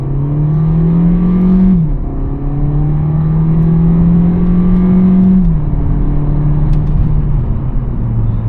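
Loud in-cabin drone of a VW Golf 7 R-Line with a 1.4 TSI engine and DSG gearbox pulling hard at night, revs climbing steadily, dropping at quick gear changes, then climbing again, with no talking.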